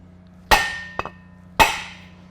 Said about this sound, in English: we'll give this a few good taps and see if we can get it to start